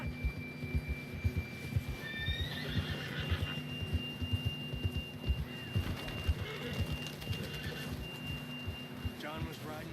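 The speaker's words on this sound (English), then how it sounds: "John was riding that horse when we left Blackwater." A horse in the Red Dead Redemption 2 video game whinnies while its hooves thud in a steady galloping rhythm, moderately close, with people speaking over the ride.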